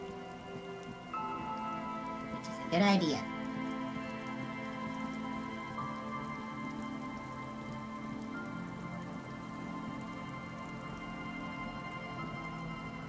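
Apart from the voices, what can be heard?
rain falling in the video game Disco Elysium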